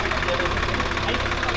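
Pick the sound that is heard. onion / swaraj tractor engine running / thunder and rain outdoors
swaraj tractor engine running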